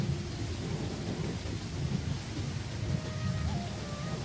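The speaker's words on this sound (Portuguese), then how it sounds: "A tempestade será muito grande." Thunderstorm with steady heavy rain and rolling thunder, a continuous low rumble under dense hiss of falling rain, moderately loud and unbroken throughout, no voices.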